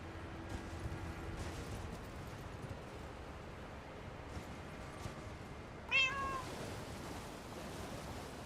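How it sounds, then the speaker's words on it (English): A house cat lets out a single short meow, fairly soft and close, against a quiet background hiss with no talking. "We'll let that cat in here."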